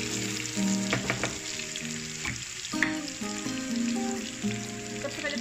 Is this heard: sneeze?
no